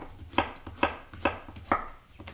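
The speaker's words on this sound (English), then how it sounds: "So I'm going to cut this patty pan in half like that." A knife cuts through a patty pan squash and strikes the cutting board in four firm, evenly spaced chops, close and clear with no talking.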